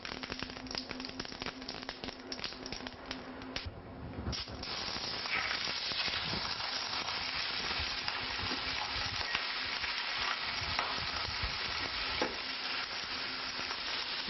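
Scorpion fish searing in a hot pan with oil and coarse salt, a steady loud sizzle and crackle that grows denser after a few seconds and continues unbroken throughout.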